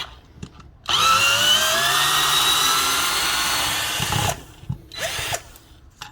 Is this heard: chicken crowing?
no